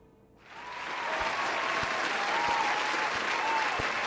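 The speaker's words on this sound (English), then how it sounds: "And a round of applause to the stream" A round of applause swells quickly from near silence and holds steady as a dense, continuous clapping crowd for several seconds, with occasional sharp thumps beneath.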